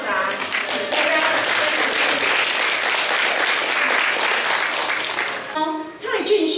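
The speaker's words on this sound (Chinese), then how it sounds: "请大家给予掌声，我们恭喜校长。" An audience claps steadily and loudly at a school principals' handover ceremony in Changhua, the applause filling the room before easing off, with voices speaking over it near the end.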